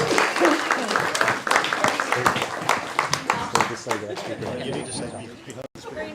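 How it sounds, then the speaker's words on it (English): An audience at a dramatic society gathering claps in a round of applause, with voices and chatter mixed in over the clapping. "Give him a round of applause."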